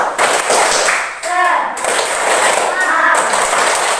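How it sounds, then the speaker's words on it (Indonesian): A classroom of children claps a rhythmic cheer pattern, loud bursts of hand claps in a set beat broken by short sung or chanted notes, with children's voices mixed in. "Ayo, tepuk semangat."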